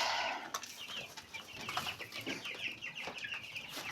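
Several hens cluck and chatter close by in overlapping bursts, with a few sharper calls mixed in and no talking.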